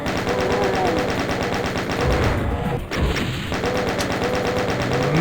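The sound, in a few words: chaingun firing in Doom 2 video game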